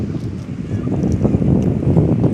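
A sea breeze blows at Uthandi Beach, giving a steady, rough rumble of wind buffeting the microphone. It sounds close and loud throughout, with faint surf-like wash underneath.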